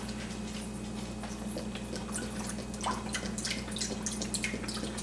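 Chicken broth pours into a cooking pot as a steady, close liquid trickle and splash with dripping accents, continuous across the clip with no talking.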